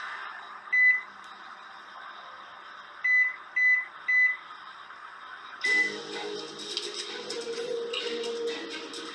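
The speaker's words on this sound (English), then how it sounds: "It's the microwave in the rain" A microwave oven running outdoors in the rain gives several short, sharp electronic beeps, spaced apart over a steady hum and hiss. Rain noise swells louder in the second half.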